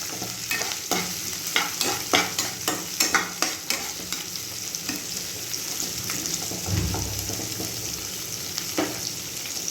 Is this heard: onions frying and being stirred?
yes